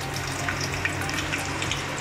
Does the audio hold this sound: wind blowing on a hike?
no